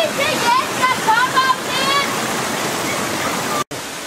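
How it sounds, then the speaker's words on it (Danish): Døndalen waterfall on Bornholm, Denmark's largest, roars as a steady broadband rush heard from below, with birdsong chirping over the top and a brief dropout near the end. "Det er så Døndalens vandfald, filmet nedefra."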